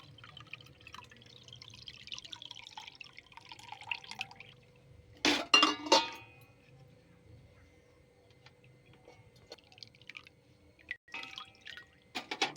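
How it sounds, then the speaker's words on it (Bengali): Coconut milk drips and trickles through a strainer into a glass bowl, quiet sparse drips with a louder splashing burst in the middle and a few more close drips near the end. "নারকেলের দুধটা আমি ছেঁকে নিয়েছি।"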